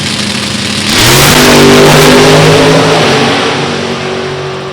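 A drag racing car with a 622 cubic inch motor launches at an NHRA Division 3 event at Beech Bend, a loud revving engine roar that swells after the first second and holds, rising in pitch, with no talk.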